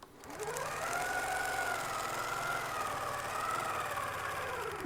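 Sewing machine stitching a Sherbet table runner, one continuous close motor whir with a rising and falling pitch, steady and alone for the whole stretch.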